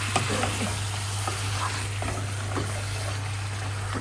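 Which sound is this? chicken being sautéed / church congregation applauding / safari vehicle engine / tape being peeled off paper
chicken being sautéed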